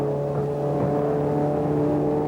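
A 1966 Chaparral race car pulling out of the pits at the 12 Hours of Sebring gives a loud, steady engine drone with strong harmonic tones, close and sustained throughout.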